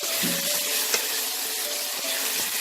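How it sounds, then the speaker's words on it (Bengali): Spice masala for a Bengali fish-head and cabbage curry sizzles steadily as it is fried and stirred in a pan, a close, continuous hiss with a brief clink near the middle. "দিয়ে আমি মশলাটাকে খুব ভালো করে কষিয়ে দেবো।"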